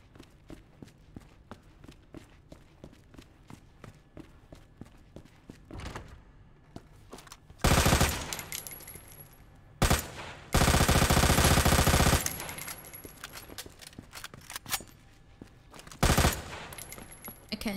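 Resident Evil 2 gunfire erupts in loud, sustained automatic bursts, several long sprays separated by quieter stretches of footsteps and soft thuds.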